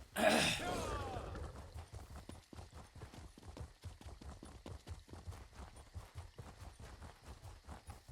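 Horse hooves clip-clop in a quick, steady rhythm after a brief breathy snort at the start, close and fairly quiet, from a horse in the game The Elder Scrolls Online.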